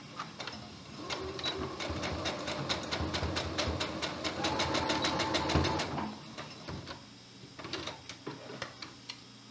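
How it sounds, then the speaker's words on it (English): Sewing machine stitching across the top of a fleece pullover placket beside the collar binding, a steady close mechanical whirring run that pauses briefly then resumes in short bursts. "I'm going to position my needle right next to the edge of the binding, the top edge of my collar, and then sew across the top of the placket."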